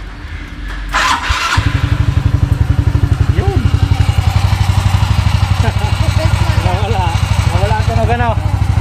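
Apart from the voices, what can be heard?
motorcycle engine starting and idling after new pulley set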